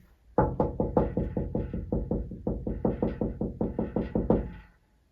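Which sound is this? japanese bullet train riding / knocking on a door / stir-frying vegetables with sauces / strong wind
knocking on a door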